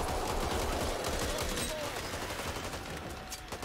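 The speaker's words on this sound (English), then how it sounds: "I'm using an SMG now." SMG gunfire in the video game Back 4 Blood, rapid continuous automatic shooting in a loud, dense stream that eases slightly toward the end, with no talking over it.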